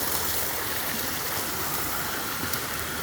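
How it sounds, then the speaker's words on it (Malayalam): A small waterfall and rocky stream at Madassery near Amboori, Trivandrum, pour out a steady, dense rush of water that stays close and even throughout, with no voices over it. "ഇതൊക്കെ ചെറിയ വെള്ളച്ചാട്ടം, വലുത് മുകളിലാണ് കേട്ടോ."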